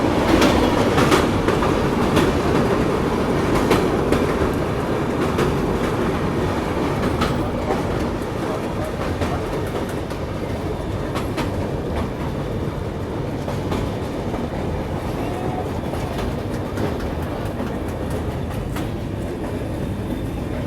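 A passenger train crossing the Koel river on a scenic Odisha line, a steady loud rumble with rhythmic clickety-clack of wheels over rail joints, continuous throughout without talk.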